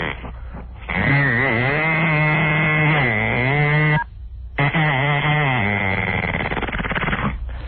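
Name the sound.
voice imitating a chainsaw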